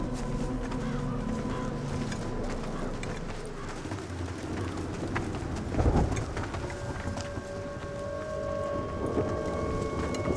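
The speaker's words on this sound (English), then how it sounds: "Sounds like that storm's getting closer." A thunderstorm with steady heavy rain, a rumble of thunder swelling around the middle, and constant hiss throughout, at an old church in a horror film setting.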